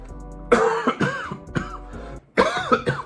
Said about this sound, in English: I humbly apologize for all the coughs during this video.